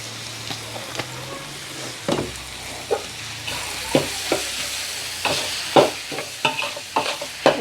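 Minced pork chili paste is stir-fried in a pan, with a soft continuous sizzle broken by repeated sharp spatula scrapes and clacks in an irregular rhythm, close and fairly quiet, no talking.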